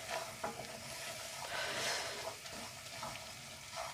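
Steady stirring of melted butter and flour into a roux in a pan, a soft continuous scraping with gentle sizzle and rhythmic strokes, close and fairly quiet with no voices.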